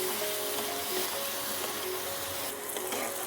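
Spice paste with turmeric and salt fries in oil for kasundi, giving a steady, even sizzling hiss that carries on without pause.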